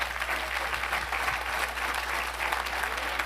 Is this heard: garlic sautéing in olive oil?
no